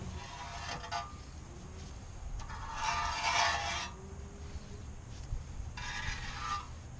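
Metal-to-metal scraping on a transmission pan's gasket surface being cleaned, three short rasping bursts with quiet gaps between them, close and moderately loud.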